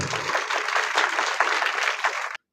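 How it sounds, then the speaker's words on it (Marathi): Students in a school hall at an inauguration ceremony applauding together to welcome a guest speaker, a dense, even burst of many hands clapping for about two seconds before stopping abruptly. "टाळ्या वाजवून सरांचं स्वागत करतील."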